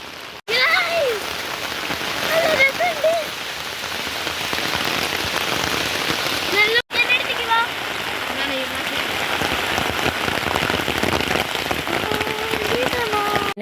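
Heavy rain pouring steadily during a walk up a hill, with people sheltering under umbrellas; a dense, close hiss of drops on surfaces continues throughout, with people talking faintly beneath it.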